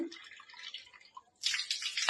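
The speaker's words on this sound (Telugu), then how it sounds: "ఈ 3వ కప్లో వచ్చేసి బోర్ కనెక్షన్ నుంచి వచ్చే వాటర్ తీసుకుంటున్నాను" Bore-well water runs into a cup, a splashy pour that starts after a brief pause and keeps going loud until the clip ends.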